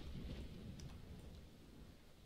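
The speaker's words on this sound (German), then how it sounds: "Und es zieht ein Sturm auf." Rain and rolling thunder from a thunderstorm in the video game Dawn of Man, a quiet low rumble fading over a couple of seconds beneath a steady hiss of rainfall.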